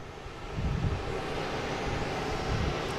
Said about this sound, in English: And we have a Porter taking off on 4.